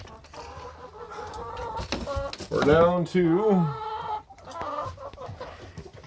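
Backyard hens, including Americana and Brahma chickens, cluck and squawk near the microphone in a loud burst midway, while someone talks over them throughout.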